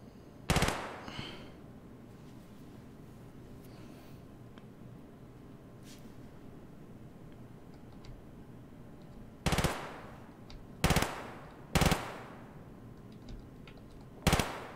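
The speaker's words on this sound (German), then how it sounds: "Die schießen bloß aus Spaß." Escape from Tarkov game gunfire: one loud crack early on, then a quiet lull of low ambience, followed by four more sharp shots spaced about a second apart near the end, with no voices.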